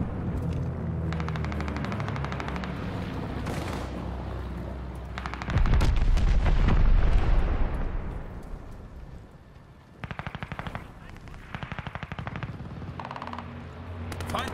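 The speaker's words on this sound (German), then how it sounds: "Teammitglied hat Bombardement angefordert." Artillery bombardment called in by a teammate during a team deathmatch in Call of Duty Vanguard, a heavy rumbling barrage of blasts mixed with rapid machine-gun fire and scattered gunshots, loud and close.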